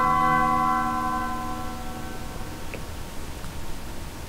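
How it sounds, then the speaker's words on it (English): Deep, resonant bell tolls from the Undertale game ring out and slowly decay into a soft ambient hum, with no voices over them. "What's with the bells?"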